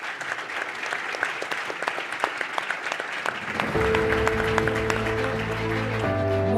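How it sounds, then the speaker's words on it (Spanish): Applause from a forum audience for a panel at the IEFA LATAM Forum 2025: many hands clap briskly at first, then a steady music bed enters midway and the clapping carries on beneath it. "les pido un aplauso para el panel"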